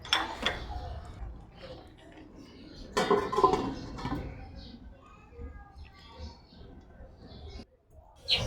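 A lid goes onto a cooking pot of chicken in oyster sauce with pineapple chunks, giving a few light metallic clinks and one louder clatter, under a speaking voice in a quiet kitchen.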